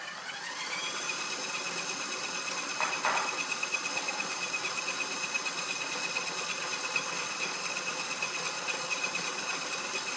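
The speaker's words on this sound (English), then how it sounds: "the butter has been beating now with the sugar for about 2 to 3 minutes, and it's nice and creamy" An electric mixer beats butter and sugar into a creamy mixture for banana bread, a steady, fairly quiet motor whir with a fine rhythmic ticking, heard alone with no talking.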